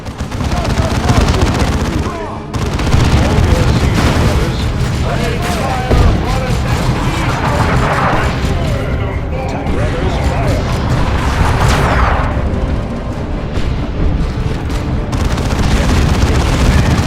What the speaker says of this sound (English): Keep advancing to avoid the artillery.